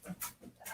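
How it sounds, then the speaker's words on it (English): A dog pants in short, faint breathy bursts in the background, with soft rustling and no talk. "if you hear that rustling around in the background, that's my dog"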